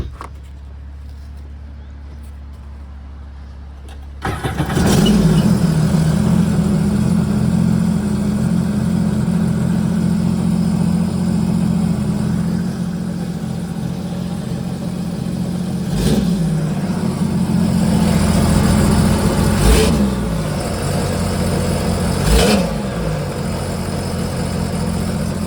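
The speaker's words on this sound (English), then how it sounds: "Let's give it a start." A jet ski engine fitted with a Flowmaster exhaust starts after a few quiet seconds and settles into a loud, steady idle, with a couple of sharp revs near the end.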